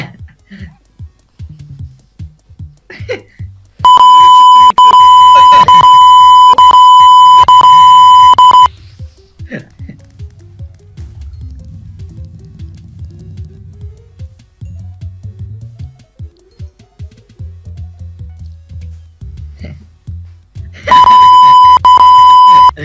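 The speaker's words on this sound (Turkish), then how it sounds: "Can belki bütün kelimeleri biplenecek anasını satayım bu videoda" Censor bleeps over swearing during Minecraft play, two long loud steady tones, one lasting several seconds and another at the end, cutting across laughing, chattering voices.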